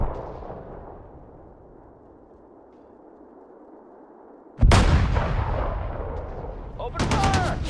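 Artillery and gunfire from the Sudden Strike 4 Pacific War battle of Okinawa: a low ambient rumble gives way to a loud sudden burst of cannon fire, followed by a second sharp blast near the end.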